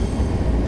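A BR 111 electric locomotive in Train Sim World 4 rolls along with a dense, steady low rumble of wheels and running gear, continuous and close.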